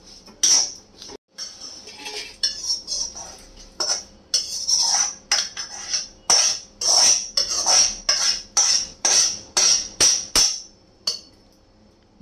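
Fried curry leaves are scooped into another dish with a steady run of bright metal clinks, a spoon striking a pan again and again in a close, regular rhythm.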